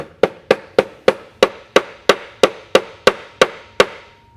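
Brass wire being hammered into a 1 mm inlay slot: about twelve sharp, evenly spaced metallic strikes, loud and close, each ringing briefly before the next.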